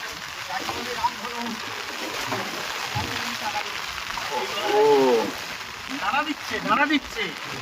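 Heavy rain and gusty storm wind on a fishing boat out at sea during a hilsa catch, a steady broadband hiss that swells midway, with a voice speaking over it.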